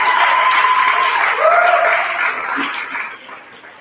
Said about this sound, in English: Let's give all of our candidates another round of applause.